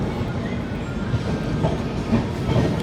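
The Kalka Shatabdi rolls along the rails after leaving Panipat Junction, with a steady rumbling drone and a faint clickety-clack of the wheels heard from inside the carriage.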